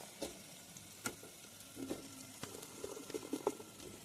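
Okra and tomato pieces hit golden-brown fried onions in a pan, giving a soft, low sizzle broken by a few sharp clinks of stirring, fairly quiet and with no talking.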